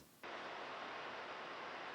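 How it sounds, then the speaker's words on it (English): Dell XPS 15 laptop cooling fans spinning under heavy load, a steady close airy whoosh that kicks in abruptly after a brief quiet moment and holds constant. "and under heavy load the fans sound like this."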